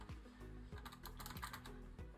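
Buttons on a Razer Tartarus V2 gaming keypad click rapidly in quick irregular bursts, close and crisp, like fingers pressing keys.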